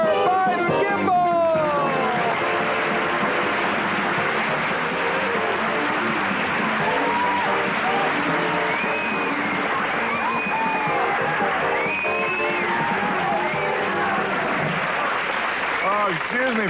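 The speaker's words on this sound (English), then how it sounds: "Excuse me for clapping there." A TV studio audience applauding and cheering on a talk show set, a loud continuous wash of clapping with whoops and voices running throughout.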